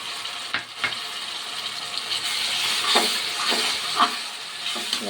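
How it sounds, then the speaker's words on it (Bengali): A paste of ginger, garlic and green chili fries with onions in oil, giving a steady close hiss and sizzle with occasional sharper spatters as it is stirred, and no voices. "এটা সুন্দর করে কষিয়ে নেবো যতক্ষণ না কাঁচা গন্ধটা যায় আর তেল ছাড়ে।"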